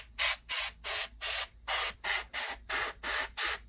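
Nine short aerosol bursts of cleaner sprayed into the side vents of a PS4 console, evenly spaced hissy puffs with brief gaps, close and clear.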